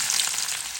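Garlic frying in hot oil with dried chillies and five-spice seeds, a brief, bright, close sizzling hiss that holds steady without pause.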